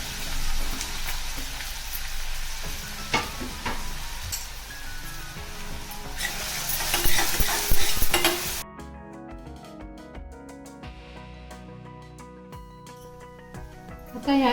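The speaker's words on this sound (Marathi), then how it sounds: "तेल छान गरम झालेलं आहे. आता यामध्ये कांदा टाकून घ्यायचा आहे आपल्याला." Onion sizzles as it drops into hot oil for a spicy brinjal bharta, a loud broad frying hiss in the first half that settles into a quieter sizzle under music later.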